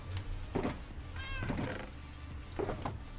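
Minecraft cats meow repeatedly, a cluster of close, moderately loud mews with a squeaky high note in the middle, over faint ambient game sound and no voices.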